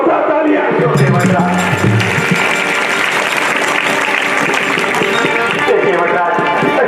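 An audience at a Ramleela performance in Soniya Vihar breaks into sustained, loud applause, a dense wash of many hands clapping throughout, with a voice briefly heard at the start.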